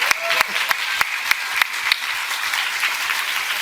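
Audience applause at a talk, a steady wash of clapping from a crowd with a few sharp, distinct claps standing out near the front.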